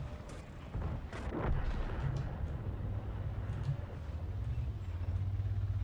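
A T110E5 tank firing its gun in a tank video game, a single deep boom near the start over a low rumbling engine drone that continues steadily, with no talk.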